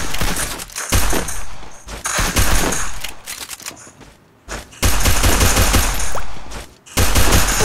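Rapid, loud video game gunfire in a shooter, with long automatic bursts broken by short pauses and heavy thumping impacts, close and dominant with no talking.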